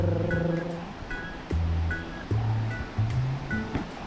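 Sea waves wash steadily at the San Blas pier in Nayarit, Mexico, a continuous broad surf rush mixed with intermittent tonal sounds.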